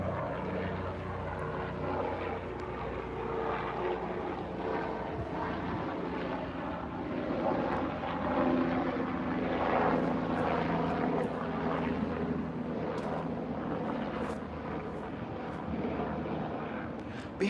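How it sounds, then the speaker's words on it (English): A propeller airplane drones overhead in a garden beside banana and avocado trees, a steady far-off rumble that swells and fades over about seventeen seconds, with faint birdsong around it. "let me let that airplane go"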